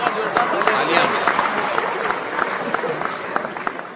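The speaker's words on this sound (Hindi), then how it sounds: "बात अच्छी लगी तो एक बार जोरदार तालियां" Audience at an open mic poetry event breaks into loud, dense applause, many hands clapping steadily and close for the full stretch, easing slightly toward the end.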